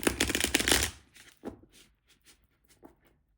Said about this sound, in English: I'll shuffle here for a little bit.